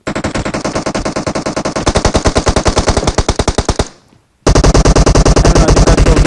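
Sustained automatic gunfire from PUBG Mobile, played on the Livik map: loud rapid bursts, steady at first and then faster and heavier, a brief pause near the end before another dense volley resumes.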